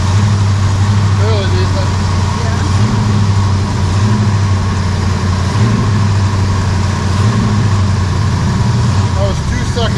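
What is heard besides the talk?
Ford 302 V8 engine running in 1968 Chevy C10 truck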